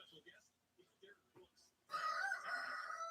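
Someone talks quietly in short phrases, then a rooster bursts into a loud, close crow that drowns everything out and carries on to the end.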